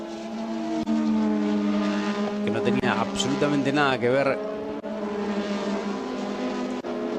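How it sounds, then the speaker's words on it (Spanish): A 1980s turbocharged Formula One engine at the 1984 Austrian Grand Prix howls hoarsely and rises in pitch through gear changes, heard under someone speaking throughout. "el sonido tan particular de esos motores turbo de la década de los 80"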